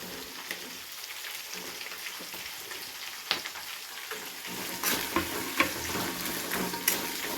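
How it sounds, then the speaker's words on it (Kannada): Onions, curry leaves and green chillies frying in a pan for uppittu, giving a steady crackling sizzle with scattered louder pops and stirring scrapes, close and alone without any talk. "ಇದನ್ನು ಚೆನ್ನಾಗಿ ಕೆಂಪಾಗೋವರೆಗೂ ಫ್ರೈ ಮಾಡ್ಕೊತಾ ಇದ್ದೀನಿ"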